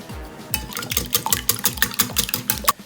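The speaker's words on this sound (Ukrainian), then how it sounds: "Перебиваємо наші яйця, дуже добре перебиваємо вінчиком і додаємо трішки солі." Three eggs beaten briskly with a whisk in a bowl for breading chicken Kyiv, a fast steady rhythm of clicking, scraping strokes close by, with no talking.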